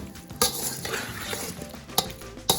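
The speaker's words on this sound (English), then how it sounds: "taking our spoon, we're just going to gently stir that all through" A spoon gently stirs potato salad with chives in a bowl, a soft continuous mixing rustle with a few sharper clinks of the spoon against the bowl.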